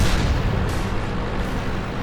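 A T-32 tier 8 American heavy tank gun firing APCR rounds in World of Tanks sends out a loud, deep boom that dies into a rumbling, broadband tail.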